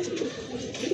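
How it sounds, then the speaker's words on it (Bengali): Pigeons at a pigeon market coo in low, soft, throaty murmurs, close by, in a short run of overlapping calls with no speech. "আরেক জোড়া কবুতর মাশাআল্লাহ খুবই সুন্দর জেড স্প্রিং কবুতর।"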